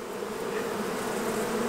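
Honey bees hum inside an open beehive during a honey flow, a dense, steady buzzing drone filling the space close by with no voices over it.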